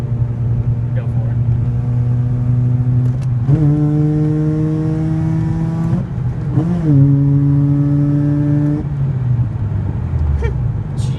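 Mazda RX8 pulling hard from inside the car, the rotary engine climbing in long rising sweeps with brief dips at gear changes, loud and close, then easing off near the end; voices are heard briefly.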